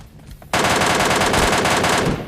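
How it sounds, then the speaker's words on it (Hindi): Sustained automatic gunfire in the mobile battle-royale game PUBG Lite, a loud rapid burst of rattling shots that bursts in after a quiet moment and continues steadily to the end. "अब ये वाले गन शॉट्स की आवाज़ आती कंटेनर्स की तरफ से"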